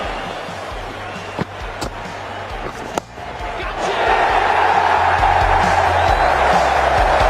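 Stadium crowd noise swells in the Ashes Cricket video game, a broad roar of cheering that rises sharply midway and holds loud and steady, with a few sharp thuds and knocks heard earlier over the murmur.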